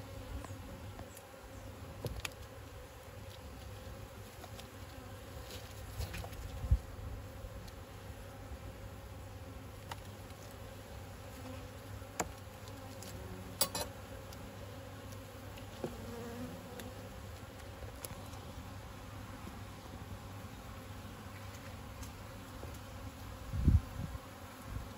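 Honey bees buzz around an open, swarmed beehive with brood, pollen and honey frames, a steady, faint droning hum with occasional nearer passes and light handling taps throughout.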